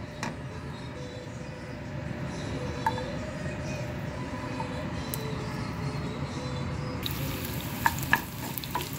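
Half a teaspoon of mustard seeds and finely chopped red shallots fry in oil, giving a continuous close sizzle with scattered small pops that turn sharper and crackling near the end, with no talking.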